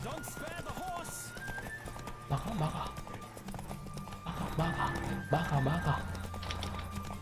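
Horse hooves gallop in The Witcher 3 game, a steady rapid clip-clop running throughout with occasional whinnies, under game music and frequent talking voices.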